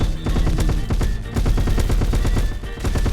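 An automatic weapon fires in the Roblox game Base Battles, a loud, rapid, continuous burst of closely spaced shots rattling on for several seconds.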